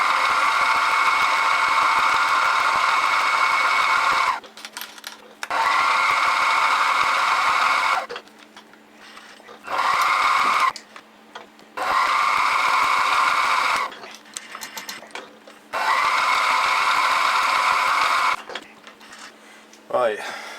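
Milling machine chamfering the edges of a metal vice stop, with several bursts of steady high-pitched whirring cutting noise separated by quieter pauses.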